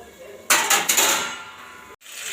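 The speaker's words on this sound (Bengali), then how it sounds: "ওদিকে মাছটা আমি ভালোভাবে কষে নিচ্ছি" Fish being sautéed in a pan in a home kitchen, with sharp clanks of a utensil against the pan in three quick strikes, then a fading sizzle and scraping, loud and close, cut by a brief pause before stirring resumes.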